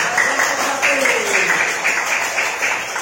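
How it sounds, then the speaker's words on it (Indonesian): A classroom group claps for pupils during a school lesson, a continuous wash of applause with a voice speaking over it. "Beri tepuk tangan."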